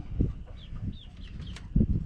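Young, half-grown chickens in a coop cluck and peep faintly, with a few soft chirps over low rustling and thumps, some way off and quiet, with no talking.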